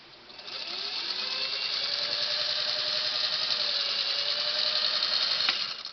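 A Singer 301A sewing machine runs a steady stitching burst of about five seconds, a fast, even mechanical whir and clatter that rises in pitch as it speeds up, then stops abruptly, close and alone.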